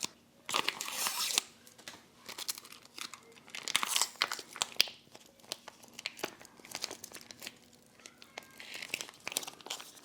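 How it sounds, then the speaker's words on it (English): A halal chocolate pudding pouch from a 2017 USA halal MRE ration being torn and crinkled open, with repeated close, loud plastic crackles and rips in uneven bursts, no talking. "we're going to open up our halal chocolate pudding"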